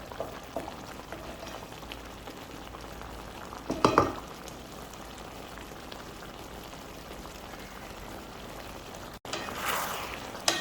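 Chicken manchurian with vegetables cooks in a pan over the stove, giving a steady, close bubbling sizzle with a louder burst of stirring around the middle and again at the end, with no talking.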